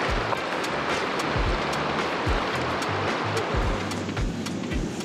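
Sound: fast river current flowing over boulders

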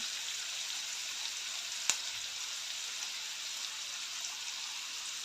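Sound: onion and tomato frying in a pan

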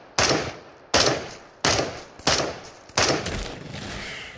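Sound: gunfire from a gun in the video game Into the Radius

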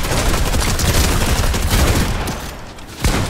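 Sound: gunshots in a video game

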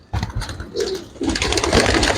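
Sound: pigeon cooing while being shown

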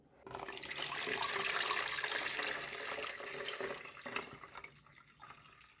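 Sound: draining water from orchid bark

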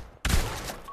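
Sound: SMG firing in the video game Pavlov

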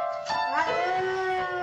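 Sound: dog howling along to piano

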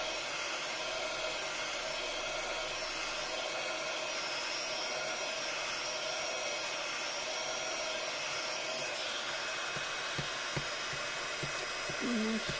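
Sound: heat gun blasting hot air to remove brick slips

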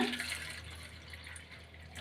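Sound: water poured into a bowl of tamarind

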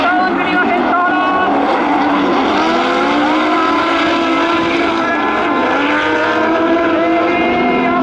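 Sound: drift cars with Toyota 2JZ six-cylinder engines

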